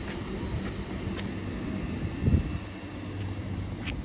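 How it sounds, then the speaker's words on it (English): An IET train creeping slowly through Didcot Parkway station, a low steady rumble with a brief heavier thump midway, heard from the platform under wind noise and faint distant squeals. "that's the slowest I've ever seen an IET go"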